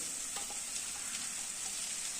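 Ghee hitting a hot pan while a vegetarian kochur data dish cooks gives a faint, steady sizzle with a soft crackly hiss and a few light pops throughout.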